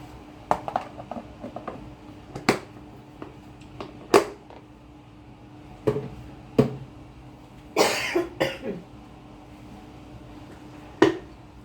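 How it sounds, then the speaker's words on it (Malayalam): Repeated sharp coughs scattered over several seconds, some single and some in quick pairs, close and fairly loud, with a light clink or tap between. "ചുമ ഒരു രക്ഷയില്ല കേട്ടോ"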